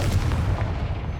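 A Confringo blasting spell explodes in the video game Hogwarts Legacy as a deep, rumbling boom that holds steady for about a second before slowly fading.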